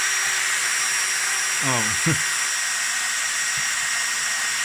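A blunt drill bit bores into soft aluminium, giving a loud, steady whirring roar that runs unbroken from start to finish, with one short voice exclaiming partway through.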